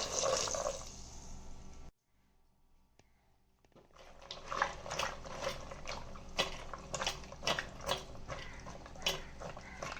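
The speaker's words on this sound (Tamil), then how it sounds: "தண்ணி ஊற்றி ஊற வச்சுக்கலாம் ஒரு 5 நிமிஷம்." Water is poured over a quarter kilo of meal maker soya chunks to soak them, a splashing pour that stops briefly, then resumes as streaming water with sharp drips and clinks, no talking.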